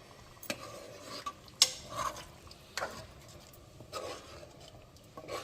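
Small fish curry stirred in a pan with tamarind paste, faint scraping and clinking of a spoon against metal in short irregular strokes over a soft simmering sizzle.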